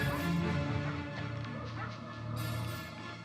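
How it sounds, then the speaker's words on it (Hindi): A dog barks and yips repeatedly at a distance in the middle of a scene in a Hindi-dubbed film, the barks faint and mixed into a steady background hum and room noise. "सर, वहाँ कुत्ता क्यों भौंक रहा है?"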